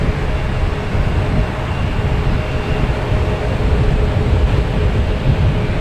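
A Lufthansa Airbus A380 airliner at Boston Logan Airport gives off a steady, loud, low jet roar that holds evenly throughout, with no talk over it.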